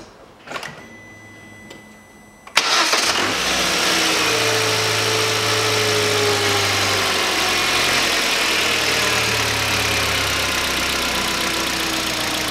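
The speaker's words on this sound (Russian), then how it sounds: "Запускаю двигатель, прогреваю его и потом уже попробую обучить." A 2012 Hyundai Solaris engine cranks briefly and catches after a couple of quiet seconds, then settles into a steady, fairly loud idle with a slightly raised warm-up speed that holds to the end.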